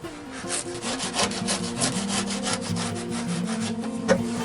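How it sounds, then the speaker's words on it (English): Old sealant is scraped out of an RV refrigerator cooling unit, a steady run of rapid rasping strokes at close range, moderately loud and continuous with no talking. "So I'm going to take some time, scrape this out."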